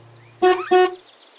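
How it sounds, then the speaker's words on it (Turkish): Two short, bright car horn honks in quick succession, loud and close. "Korna"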